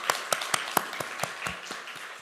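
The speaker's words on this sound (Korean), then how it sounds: "우리 박수로 맞이하겠습니다." A church congregation at a Sunday university service claps to welcome a guest, the sound quiet and sparse, with distinct, evenly spaced claps in a steady rhythm that thins toward the end.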